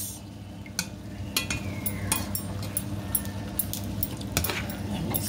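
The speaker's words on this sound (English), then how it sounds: "Let me stir together" Stirring Nigerian snail stew in a cooking pot: scattered scraping clicks of a spoon against the pot over a steady low simmering rumble, close and moderately loud, with no talking.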